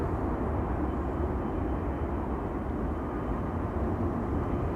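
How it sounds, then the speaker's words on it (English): KLM flight 622 from Atlanta arrives at Schiphol Airport, a steady broadband jet roar that holds at an even, fairly loud level without pause. "So this is KLM flight 622, arriving from Atlanta, Georgia."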